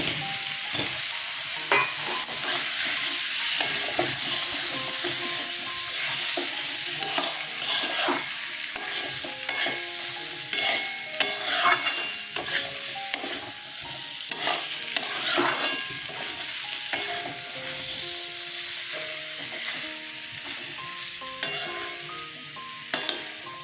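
Ridge gourd, potato and tomato sautéed in a pan for a Katla fish curry, with steady stirring scrapes and a continuous sizzle running throughout, close and fairly loud with frequent sharp utensil clinks.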